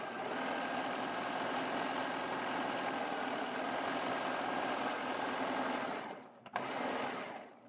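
A Baby Lock Applaud serger stitches fabric with a fast, steady mechanical whir that runs continuously for several seconds before stopping briefly near the end, then starts again for a moment.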